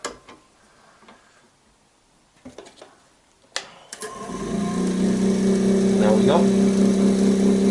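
After a few clicks and taps, a woodworking lathe is switched on and spins up into a steady, loud motor hum with a rising tonal whine. Someone speaks briefly just before it starts.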